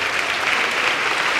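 A church congregation claps together in praise, a dense, loud wash of applause filling the short moment with no voice on top.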